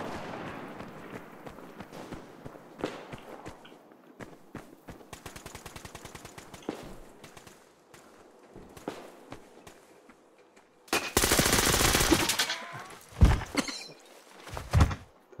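Gunfire rattles through a Survarium match, with scattered single shots and short automatic bursts, then a loud sustained burst of fire followed by a few heavy thuds near the end.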